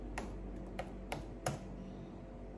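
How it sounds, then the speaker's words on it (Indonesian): A handful of sparse keystrokes on a computer keyboard, four distinct taps spaced unevenly over a couple of seconds, quiet and close in an otherwise still room. "Bentar ya, lagi ngetik nih."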